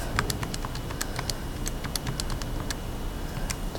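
Rapid key presses tapped out on a calculator, a quick irregular run of light clicks over a low background hum, close and clear with no speech.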